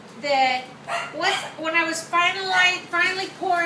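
Pet dogs barking and yipping in a home while someone talks about making soap; short bursts of barks recur over and under her speech, fairly close and moderately loud.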